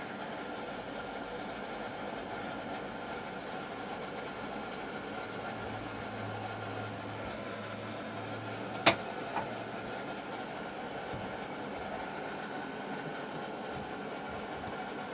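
Inside a 2022 Citroen Ami electric car on a wet road, a constant loud cabin drone and road rumble carry on evenly, interrupted once by a brief sharp click.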